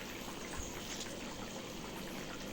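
Water drains from boiled soybean chunks, a soft, continuous trickle and hiss heard close up and alone at low level.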